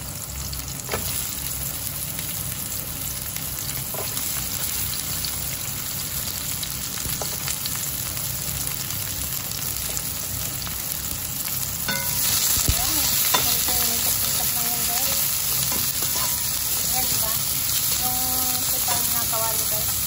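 Garlic and then onion sauté in a hot wok with a loud, continuous sizzle and hiss that swells partway through as more goes into the pan, with occasional stirring scrapes.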